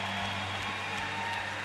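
Fans in the stands at a Paralympic swimming event applaud in a steady, even wash of clapping that continues without a break and sounds somewhat distant.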